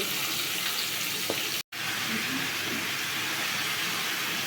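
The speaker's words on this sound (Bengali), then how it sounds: "সবজি দিয়ে দিয়েছি কড়াইতে ওই যে কড়াইটা দিয়ে ভাজছে" Steady, loud sizzling of vegetables frying in a wok, a continuous hiss with a brief cut in the middle.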